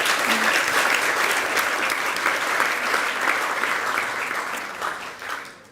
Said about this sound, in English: So I'd like to give her a round of applause and congratulate her.